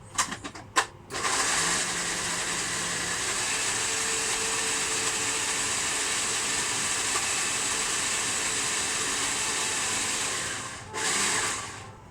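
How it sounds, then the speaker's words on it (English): Steady, continuous scraping whir of an experimental sauce being whisked for about ten seconds, close and fairly loud, with a few clattering knocks at the start and a short burst near the end. "now we'll whisk this up"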